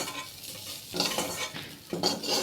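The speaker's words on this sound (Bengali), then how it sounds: "এই ফুলকপিটা আলুটাকে ভেজে নিয়ে এটাকে তুলে নিচ্ছি।" Cauliflower and potatoes frying in a wok, with sizzling oil and the scrape of a utensil stirring the pieces in two short bursts.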